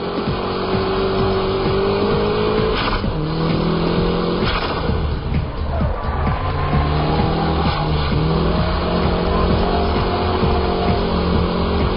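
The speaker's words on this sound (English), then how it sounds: "Let's compare the high-speed drift and the show drift laps at Ebisu." A drift car lapping Ebisu circuit in a sustained show-style drift, its engine revving hard and fluctuating continuously with tire squeal, loud and close throughout with no talk.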